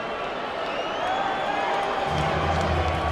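A boxing arena crowd with many Ukrainian fans cheers and roars steadily for heavyweight Vladimir Klitschko, a dense continuous swell of voices and whoops filling the hall, growing slightly louder partway through.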